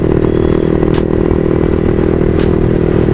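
A Yamaha MT15 motorcycle riding while low on petrol, its engine droning loudly and steadily with occasional faint clatter and jerks over wind noise.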